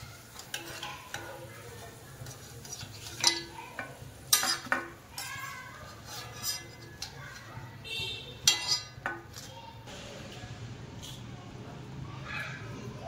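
Sweet potato pieces fried in hot oil for a sweet fasting dish, steady soft sizzling with intermittent stirring and utensil clinks close by, fairly quiet overall, with occasional speech.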